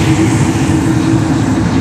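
A JetBlue airliner's jet engines roar loudly and steadily at Fort Lauderdale airport, a broad, constant rushing wash of noise with no break.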